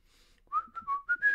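A person whistles a short tune, five or six clear, close melodic notes rising and falling after a brief quiet start.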